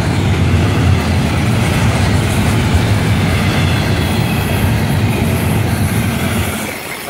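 A freight train rolls steadily past nearby, loud and continuous with rumbling wheels and rhythmic clatter, fading slightly at the end.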